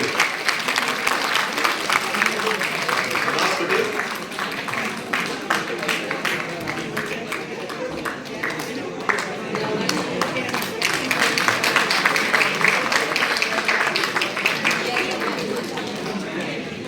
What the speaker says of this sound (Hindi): तालियां पीटते रहिए, बजाते रहिए।